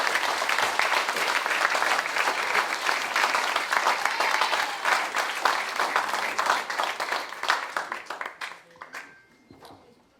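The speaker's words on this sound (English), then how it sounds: "give a round of applause for every person in here who is a Vietnam vet" Warm round of audience applause for Vietnam veterans at a community meeting, sustained clapping for about eight seconds before thinning out into a few scattered final claps.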